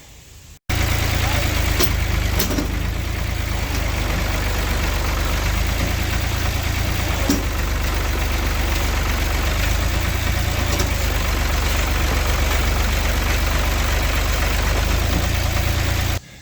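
A heavy tractor engine idles steadily at close range with a deep, constant rumble, and a few faint knocks and clicks sound over it.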